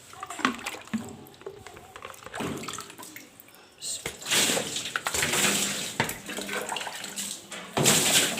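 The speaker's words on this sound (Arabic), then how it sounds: "جبنا بقى جردل ميه نضيفه وهنشوف الشطيف" Clean water from a bucket is splashed and poured over a gas stove oven to rinse it. The water comes in repeated irregular bursts of splashing and trickling, close by, with a voice speaking between the pours.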